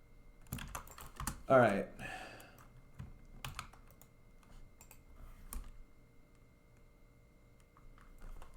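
Computer keyboard typing, a few clattering bursts of keystrokes spread across the span with quiet gaps between, close and moderately loud, with a brief spoken remark mixed in.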